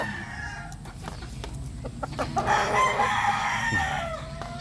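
A bulik rooster crows close by, one long rising call that holds and then trails off, with a few clucks and soft farmyard noise before it.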